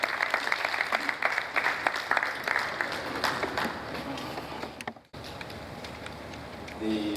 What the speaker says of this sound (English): Please, a round of applause for the engineer.